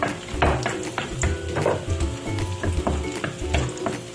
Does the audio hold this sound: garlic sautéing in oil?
yes